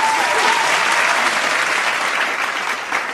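Steady applause from a crowd, loud and continuous for about three seconds, with dense clapping that fades slightly toward the end.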